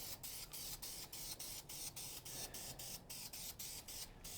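Primer is sprayed onto a 1.9L ALH engine in quick rhythmic bursts, a hissing aerosol sputter pulsing evenly about twice a second, faint and steady with no voices.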